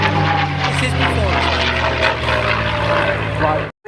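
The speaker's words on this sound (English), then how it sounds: "The turbojet provides the power plant, one of the most successful British jet engine designs of all time" A British turbojet aircraft flies over at the 2024 Cosford airshow, its steady, loud engine roar holding for nearly four seconds with a gradually falling whine before cutting off abruptly.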